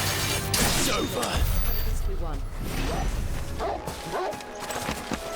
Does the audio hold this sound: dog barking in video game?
yes